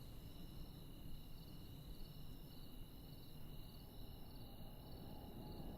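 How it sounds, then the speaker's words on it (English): Crickets chirp at night in a continuous, faint pulsing trill over a low background hiss, no voices present. "there'd be like a bunch of frogs and crickets and all that at night when you open up the window"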